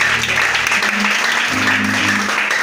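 A church congregation applauds loudly and continuously in a dense wash of clapping, with a low voice and musical tones underneath.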